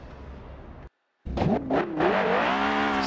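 A Porsche Carrera GT engine in the video game Forza Horizon 2 revs up sharply in a few quick bursts after a brief silence, then holds a loud, climbing whine with gear-like pitch sweeps.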